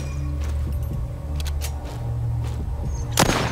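A few sharp gunshots ring out in the zombie shooter game Walking Zombie 2. The scattered cracks sit over a steady low in-game hum, with a louder shot near the end.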